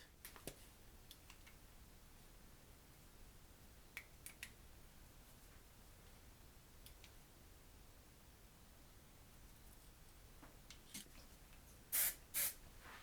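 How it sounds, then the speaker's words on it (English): Hairspray is sprayed onto a wig in two short, close bursts of hiss near the end, after a long stretch of quiet room noise with light rustling. "a little bit of hairspray to hold it"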